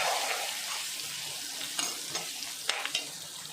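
Onions frying in a pan with chili powder stirred in, a steady close hiss of sizzling oil broken by a few sharp scraping clicks of a spoon against the pan.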